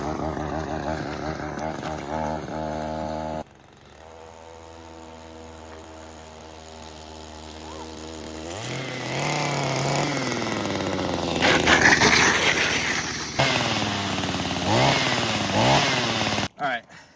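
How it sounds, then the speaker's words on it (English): A homemade motorized scooter powered by a string trimmer motor buzzes uphill, the small two-stroke engine whining and revving unevenly up close, dropping to idle, then straining louder again. "right now we're going up the hill"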